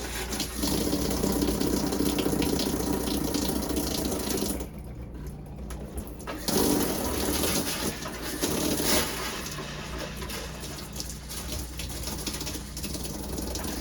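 Antifreeze runs from an RV travel trailer's shower during winterizing, a steady hiss of flowing liquid that briefly cuts out and restarts, fairly quiet with no talking.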